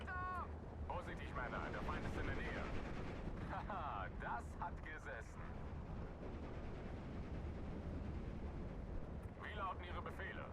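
Machine gun fire rattles in Steel Division 2 amid dense, continuous battle noise with booms and rumbling, while someone talks over the din.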